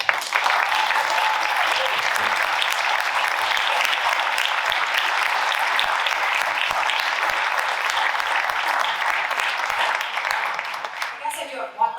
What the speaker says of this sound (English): how about a giant round of applause for these rock stars?